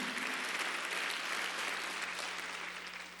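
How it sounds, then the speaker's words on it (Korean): A church congregation claps together at a Sunday worship service, steady dense applause that fills the whole moment and tapers slightly near the end. "박수하세요."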